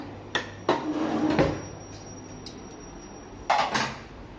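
Cups and kitchenware knock and clink a few times in a home kitchen while making green tea, sharp taps at about 0.4, 0.7, 1.4 and 3.5 seconds, close and moderately loud, with no talking.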